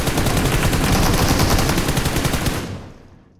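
Rapid bursts of automatic gunfire in a battle royale video game, a dense, loud rattle of shots running continuously for about two and a half seconds before trailing off.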